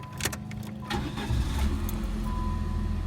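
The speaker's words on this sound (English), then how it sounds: "we'll go ahead and start the engine now" A used car's engine is started: a few key jingles and clicks, then the starter cranks briefly and the engine catches and settles into a steady, close idle.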